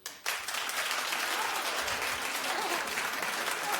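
Steady, full applause from a talk-show studio audience, mostly women clapping together, beginning abruptly and continuing evenly at a close, loud level with no voices on top.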